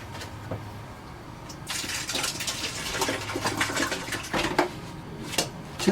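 Water poured and flushed down an RV toilet into the black tank, a steady rushing gurgle that swells louder midway and keeps splashing to the end, with no talk.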